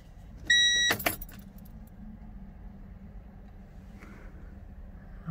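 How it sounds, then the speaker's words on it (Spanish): Keys jingle briefly in a van's ignition as the engine is switched off. A sharp click and a clatter follow, then only a quiet low hum and near silence. "Voy a apagar el motor, a ver."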